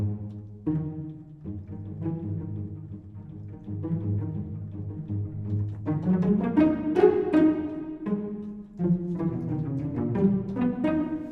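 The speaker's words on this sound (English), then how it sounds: "And we have our pizzicatos." Plucked pizzicato strings from music composition software play a lively passage of short, detached notes that thicken into denser chords partway through, clear and close with no talking.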